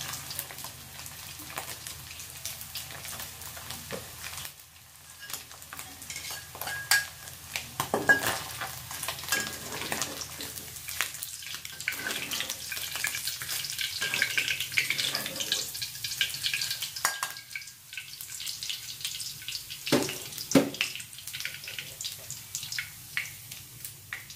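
Eels fry in sizzling oil in a pan while a utensil stirs and scrapes now and then, with occasional clinks of cookware.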